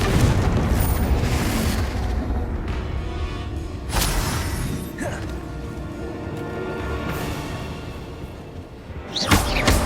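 Loud, rumbling Confringo spell explosions in the game Hogwarts Legacy, a dense sustained roar of blasts and crashes with sharper bursts partway through and near the end.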